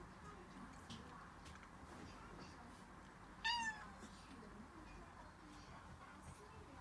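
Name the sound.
kitten meowing while eating cat food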